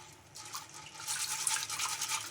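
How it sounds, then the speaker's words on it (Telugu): A soft, steady rush of water trickling and splashing onto sago in a container nearby, quiet and continuous with no voices. "ఇంకా ఇందులోకి అయితే వాటర్ అయితే వేసుకొని"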